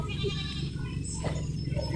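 A mother goat and her kid on a Philippine goat farm bleat in short wavering calls over an open pasture, close and fairly loud against a low outdoor rumble.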